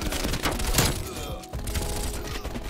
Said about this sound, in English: Dude, this TRACER fire is so nice.